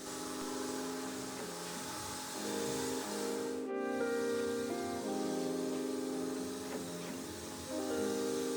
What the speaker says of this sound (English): I'm using my Flexio 3500 sprayer from Wagner again to apply the top coat.